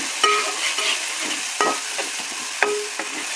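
Crushed ginger, garlic and cloves fry in a pan for a chicken fry, giving a constant bright sizzle broken by a few sharp scraping stirs, close and alone.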